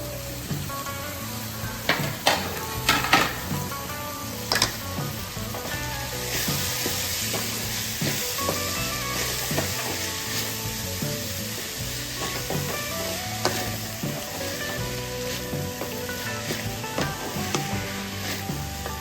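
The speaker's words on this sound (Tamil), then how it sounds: "பீன்ஸு, கேரட்டு, குடமிளகாய், அப்புறம் இந்த வெங்காயத்தாள் இதெல்லாம் போட்டு நல்லா கிண்டிக்கலாம்." Beans, carrot, capsicum and spring onion stir-fried in a pan for macaroni masala, with continuous close sizzling and repeated scraping and tapping of the spoon as the vegetables are turned.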